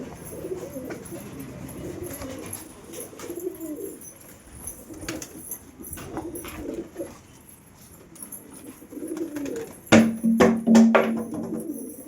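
Pigeons kept at home coo in soft, repeated rolling calls close by, with a few sharp clatters and a louder burst of cooing near the end.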